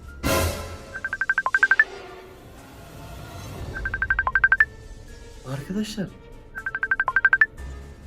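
A phone ringtone plays in three repeated bursts of rapid chirping beeps with pauses between them, close and clear, while someone speaks.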